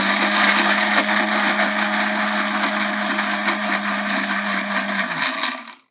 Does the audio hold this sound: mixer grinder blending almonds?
yes